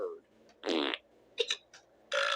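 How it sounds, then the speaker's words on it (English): A cartoon bird in a video game lets out several fart noises: a long blast, a quick double burst, a short puff and a final long one, loud and close, with no talk over them. "The bird was farting."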